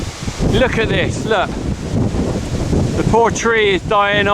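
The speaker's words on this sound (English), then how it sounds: "Oh, this wind is annoying." Strong wind buffets the microphone on a farm, a constant rough rushing roar that runs under someone talking.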